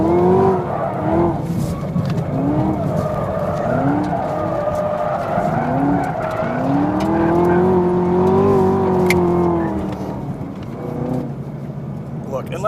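A Ford Mustang GT350R sports car accelerates hard on a tight racetrack, its loud engine note climbing and falling through repeated rev sweeps, with tire squeal and skidding mixed in close to the listener.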